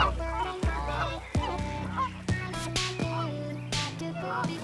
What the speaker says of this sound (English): I'm just watching these ducks.